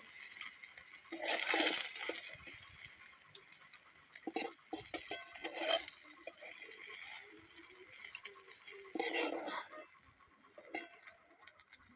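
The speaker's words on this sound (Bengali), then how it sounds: "আমি মাছগুলোকে ভালো করে লাল লাল করে ভেজে নিয়েছি এই দেখো এখন আমি সব মাছগুলোকে উঠিয়ে নেবো" Rohu fish pieces fry in hot oil in a wok, giving a steady watery sizzle with louder splattering bursts and a few clinks as pieces are moved, with no talking.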